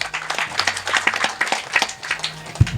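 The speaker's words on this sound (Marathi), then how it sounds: "एकदा सर्वांनी सर्वांसाठी टाळ्या वाजवायच्या आहेत" A crowd at a kirtan in a Vitthal temple in Mokhada claps together, giving a brief burst of dense, moderately loud applause.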